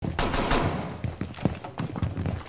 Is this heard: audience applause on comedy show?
no